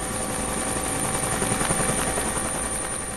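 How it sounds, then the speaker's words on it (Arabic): A large helicopter runs continuously with a dense, steady rotor roar and rapid rhythmic chop, loud and close, with no other sounds over it. "وباستخدام مروحية كبيرة تم وضع فخ قرب درب يستخدمه النمر باستمرار."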